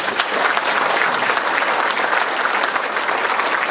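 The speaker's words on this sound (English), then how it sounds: "So another round of applause for our senior staff." Sustained, dense applause from the audience at a mayor's State of the City address, honouring senior city staff, loud and even throughout.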